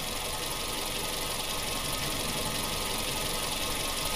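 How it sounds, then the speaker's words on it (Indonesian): A car engine in the video game Dude Simulator 3 runs loud and steady, a constant droning rumble that fills the whole stretch with no speech over it. "Soalnya mobil itu keras banget suaranya, guys."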